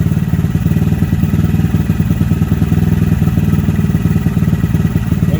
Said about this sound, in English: It's still got a slight pop on deceleration.